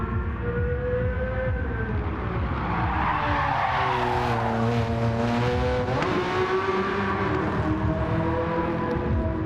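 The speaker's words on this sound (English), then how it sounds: "Very nearly slid the car off the track there. Managed to keep the composure of the Porsche 997." A Porsche 997 in Gran Turismo 7 skids on track, its engine howling and tires squealing in long sliding sweeps, loud and continuous with the engine pitch rising and falling.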